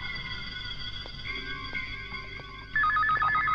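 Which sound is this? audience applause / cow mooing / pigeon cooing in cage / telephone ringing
telephone ringing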